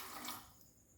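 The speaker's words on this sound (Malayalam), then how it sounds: "3 കപ്പിന് 1 കപ്പ് വെള്ളം ഒഴിച്ചു." Water is poured into a pressure cooker holding soaked chickpeas: a brief, faint splashing rush that fades within a second, with no talk.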